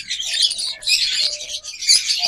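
Lovebirds chirp and tweet in a cage at a bird sale, a busy stream of bright, overlapping high calls close by, with brief pauses between bursts and no voices.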